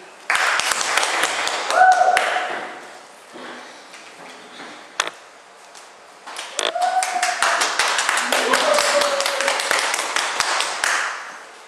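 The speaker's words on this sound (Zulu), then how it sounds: "sicele abadlali bethu asibashayele ihlombe beseza ngaphambili" An audience applauds the actors of a film, a sustained round of many clapping hands with a brief lull in the middle before the clapping swells again. Faint tones sound underneath.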